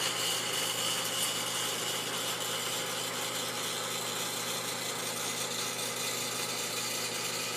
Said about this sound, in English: Sump pump is getting slower and slower.